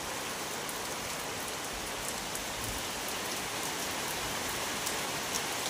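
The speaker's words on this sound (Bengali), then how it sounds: "এই দেখো ঝমঝম করে বৃষ্টি এসছে" Heavy rain pours down steadily in a dense, continuous roar of drops striking surfaces, loud and close, with no voices over it.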